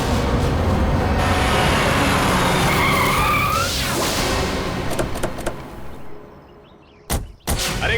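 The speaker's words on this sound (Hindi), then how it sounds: "अरे गाड़ी क्यों रोक दी, देख के चला ना" A vehicle skids to a stop with a long, loud, rough tire scrape that fades out, followed by a couple of sharp thuds like a door.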